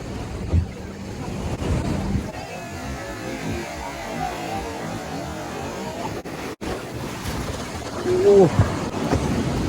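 Sea waves break and wash steadily at the water's edge, with wind buffeting the microphone throughout and a short voice-like sound near the end.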